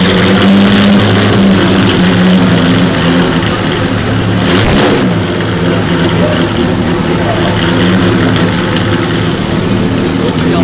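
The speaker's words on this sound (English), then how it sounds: "Bentley Blower." Vintage Bentley Blower racing car engine at the Nürburgring historic Grand Prix, a loud continuous roar with revving and a brief surge near the middle, set against steady crowd and track noise.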